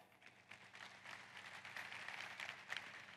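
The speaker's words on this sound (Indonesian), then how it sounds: "Beri aplaus untuk semuanya." Audience applause at an indoor afternoon event fills the space with steady, dense clapping that stays at a fairly even level throughout, with no voice over it.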